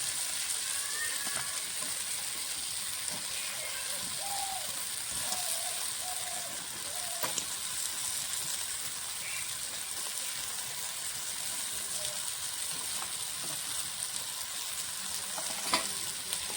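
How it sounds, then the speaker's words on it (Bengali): Pieces of fried tilapia sizzle in a pan of spice paste, a loud, continuous crackle of hot oil with faint stirring clicks and scrapes throughout, with no talking. "ভেজে রাখা মাছগুলো এখন দিয়ে দেবো।"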